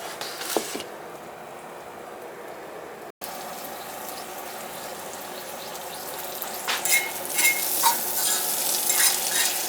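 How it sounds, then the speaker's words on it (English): Precooked breakfast food browns in a cast iron skillet alongside eggs, a quieter hiss at first, then a brief gap before a louder, crackling sizzle builds and grows busier toward the end. "So this stuff's already cooked. I'm just kind of browning it up."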